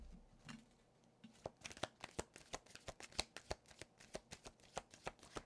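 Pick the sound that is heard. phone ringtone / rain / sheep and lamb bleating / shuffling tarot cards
shuffling tarot cards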